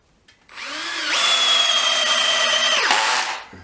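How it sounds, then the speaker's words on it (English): A cordless drill drives a screw into wood at close range, the motor whine rising to a steady pitch for about two seconds before winding down and stopping. "Oh, try putting a screw in first."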